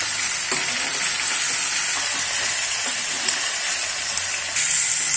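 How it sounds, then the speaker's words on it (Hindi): Potatoes and peas fry in a pan with a steady, close, fairly loud sizzling hiss that runs without a break. "ये हम एक बोल मटर डाल देंगे, इसको भी हम फ्राई करेंगे इसी के साथ में डेढ़ दो मिनट तक।"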